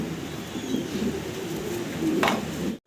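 Giant Homer pigeons coo in a low, steady murmur that runs throughout, with a brief brighter rustle near the end.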